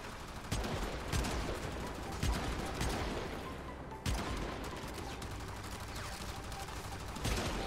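Primary-weapon gunfire rings out in a video game, with sharp shots at irregular intervals and fainter rapid bursts between them, all at a moderate level with no clear talk.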